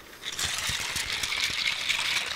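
Continuous splashing, trickling water as an ASMR trigger, close and steady, with small irregular drips and rattly bursts throughout.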